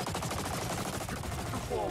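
Dense gunfire in the video game Suicide Squad: Kill the Justice League, rapid automatic bursts packed together, loud and unbroken over its short length.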